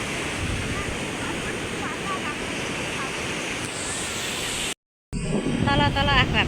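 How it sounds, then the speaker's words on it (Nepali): Ocean waves surge and wash continuously on a beach in Odisha, a dense, loud roar mixed with wind buffeting; after a brief dropout the surf returns with people's voices faintly over it. "यहाँ हेर्नु म कत्रो ढेउ आएको।"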